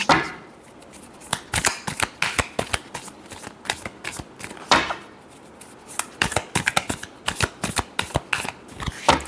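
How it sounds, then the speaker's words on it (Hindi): Tarot cards are shuffled by hand close up, a rapid series of crisp riffling flutters and slaps in uneven bursts, loud and alone with no talk. "Last shuffle."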